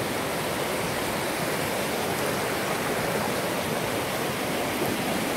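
A remote New Zealand trout river rushes steadily nearby, a dense, even wash of flowing water with no break and no voices.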